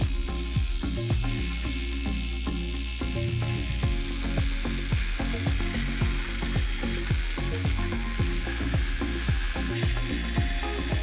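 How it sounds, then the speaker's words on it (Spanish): A drill-powered granulator grinds scraps of 3D printer filament, giving a loud, steady mechanical churn broken by rapid ratcheting clicks and snaps that repeat throughout with no pauses. "aprieta el gatillo del taladro"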